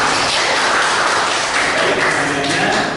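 A class applauds a second group of presenters during a graded teaching session: a dense, steady patter of many hands clapping at close range, with some voices mixed underneath throughout.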